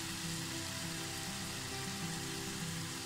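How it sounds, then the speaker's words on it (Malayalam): Tomato sauce poured into vegetables frying in a pan for spaghetti gives a steady, faint close sizzle with a hissy crackle throughout, under a low hum. "ഇതിലേക്ക് ആ ടൊമാറ്റോ സോസ് കുറേശ്ശെ ഒഴിച്ചു കൊടുക്കാം."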